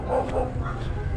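A golden poodle in a garden gives a couple of short, muffled barks and yips against a low, steady background rumble.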